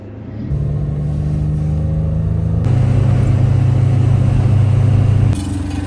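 A 1999 carbureted turbo Suzuki Carry mini truck with a new exhaust idles roughly, then revs up to a louder, deeper rumble and holds before easing back down, with no talking.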